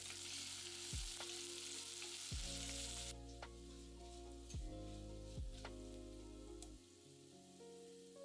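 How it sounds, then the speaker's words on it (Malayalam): Crushed ginger and garlic, dried red chillies and curry leaves fry in hot oil for a Kerala rasam. A loud, steady sizzle is punctuated by a few spatula knocks and stirring scrapes, and the hiss eases slightly partway through. "അതിലേക്ക് 4 വറ്റൽമുളക്, കുറച്ച് കറിവേപ്പില, ഇതെല്ലാം കൂടി ഇട്ട് മൂപ്പിക്കുക"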